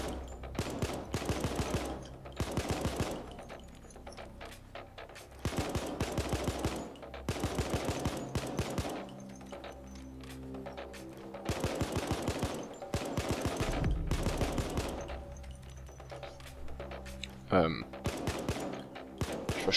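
Rapid bursts of automatic gunfire from various weapons in Payday, loud rattling volleys alternating with short pauses, while someone talks in German between and over the shots.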